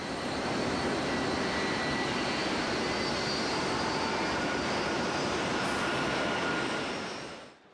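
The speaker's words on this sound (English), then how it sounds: "Cathay Pacific and Dragon are landing planes, crossing the checkerboard with almost zero bank" A jet airliner landing at Hong Kong's Kai Tak Airport roars overhead in a loud, sustained engine rush that holds for several seconds and then tapers off.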